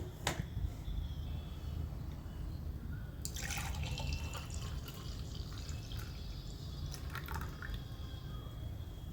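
Strained homemade juice trickles into a glass, with faint liquid splashes and a couple of brief clinks over a steady low background hum.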